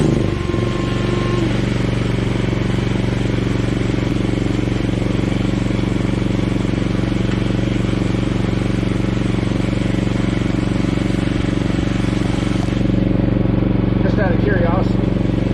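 A petrol generator engine hooked to a jump pack runs loud and close, holding a steady, unbroken mechanical drone throughout with a slight change in tone near the end.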